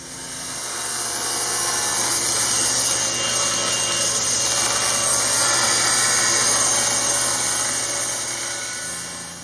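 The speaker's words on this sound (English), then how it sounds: "I'll use the table saw as well as the router as an alternative cut" A table saw cuts Formica laminate to size, a loud, steady broadband whine that starts abruptly, holds evenly for about eight seconds and then eases off as the blade runs free. No one speaks.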